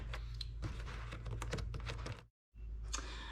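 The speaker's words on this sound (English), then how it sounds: "we're first going to take these 2 bolts out here above the radiator with a 10mm wrench" A 10mm wrench clicks in quick, close, irregular bursts while taking out two bolts above the radiator of a 2007-18 Jeep JK. The clicking stops briefly and then starts again.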